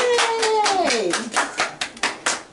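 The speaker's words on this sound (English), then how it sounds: "Let's give ourselves a round of applause." Small group of pre-K children clapping for themselves in a classroom, a burst of quick uneven claps with a voice briefly over the start, then a few scattered louder claps trailing off.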